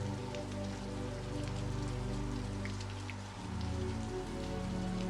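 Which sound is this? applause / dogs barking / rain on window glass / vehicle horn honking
rain on window glass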